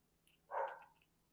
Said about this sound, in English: I'll have to close that door so they don't bark at every person and dog walking by.